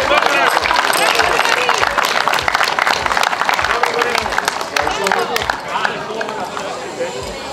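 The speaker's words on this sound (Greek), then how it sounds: "Χειροκρότημα." Steady, loud clapping from a crowd greets a multi-medal-winning athlete at a para-athletics track meet, dense rhythmic claps continuing throughout and thinning a little near the end.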